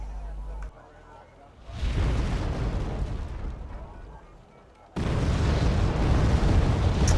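Mortar fire and explosions from the video game Wargame, with two loud sustained bursts of booming, crackling impact noise separated by a quieter lull, all close and dense.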